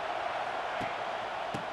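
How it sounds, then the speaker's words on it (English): Stadium crowd cheering in the EA Sports College Football 26 video game, a steady, dense roar of many voices filling the whole clip at an even level. "This crowd ready to make its presence known"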